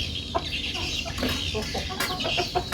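Junglefowl kept in a backyard pen cluck repeatedly in short, irregular bursts close by, over a steady background hum, with no talk.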